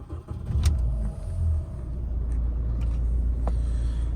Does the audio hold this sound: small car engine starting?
yes